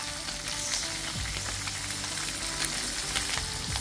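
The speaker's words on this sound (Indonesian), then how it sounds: "Yang pertama kita oseng juga bumbunya guys" Chili, garlic and shallot paste stir-fried with tauco, a loud steady sizzle with occasional spatula scrapes and pops, no voices.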